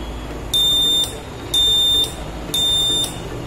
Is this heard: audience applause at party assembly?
no